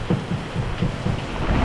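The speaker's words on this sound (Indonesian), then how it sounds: "bertarung dengan hujan" Heavy rain pounds down during a storm at sea near an offshore drilling rig, a loud continuous wash with rumbling low surges, close and without voices.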